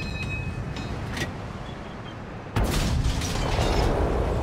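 A single heavy cannon blast from the T32-A Proto tank in World of Tanks, a sudden loud boom that leaves a sustained rumbling roar over the steady engine noise before it.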